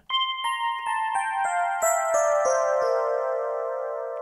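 A brittle, glittering FM piano patch from a synthesizer, voice A80 Quarks, played in its highest treble register: a descending run of bright, bell-like notes, about eight in quick succession, ringing into a sustained final tone, close and alone.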